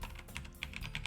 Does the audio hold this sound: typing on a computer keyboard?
yes